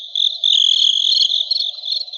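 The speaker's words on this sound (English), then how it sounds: "Crickets chirping." Crickets chirp in a steady, continuous high trill that swells and dips slightly in loudness, heard alone with no voices or other sounds.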